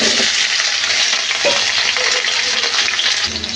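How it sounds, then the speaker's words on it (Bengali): Potatoes frying in hot oil with salt and turmeric in a pan, a loud steady sizzle close by with a few stirring scrapes, no voices. "সামান্য নুন হলুদ দিয়ে আমি আলুগুলো ভাজি করে নেব।"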